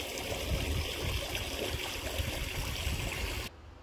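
Backyard pool water being drawn into the skimmer by the pump, a steady close rushing trickle that cuts off abruptly near the end.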